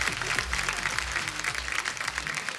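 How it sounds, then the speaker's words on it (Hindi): Studio audience applause greeting film director Farhad Samji as he is welcomed onto a comedy show stage, a sustained wash of many hands clapping at a fairly even level over background music. "फरहाद भाई के लिए जोरदार तालियां"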